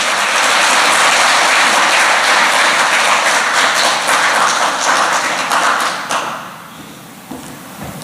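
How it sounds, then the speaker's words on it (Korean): An audience at a prayer meeting and seminar on inter-Korean peace and reunification applauds a university president taking the stage, a loud, dense clapping that holds for about six seconds and then fades quickly. "박수 쳐주시기 바랍니다."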